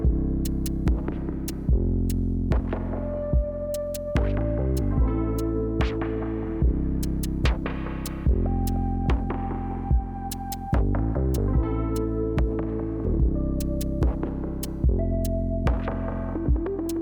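An AGT QH12 mini excavator tracks over crushed stone, giving a steady, loud, close engine drone with a throbbing hum and sharp knocks or clanks repeating every couple of seconds.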